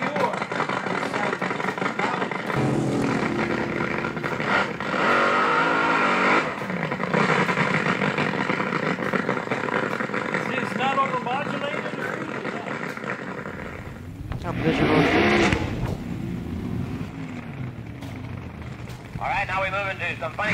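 A nitro-fuelled field dragster, a double funny car powered by a big overhead cam Ford engine, roars loudly and steadily at a drag strip, with a brief sharper burst near the end and a voice talking over it.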